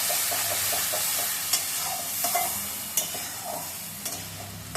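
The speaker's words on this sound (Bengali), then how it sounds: "কিছুক্ষণ পরে এবার আমি নেড়ে চেড়ে মশলাটা কষিয়ে নিলাম।" A spoon stirs a ground spice paste frying in oil in a pan, giving a steady sizzle with soft scraping strokes and a few sharper clacks against the pan, close and alone.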